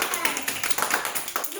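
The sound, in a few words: clapping at a birthday celebration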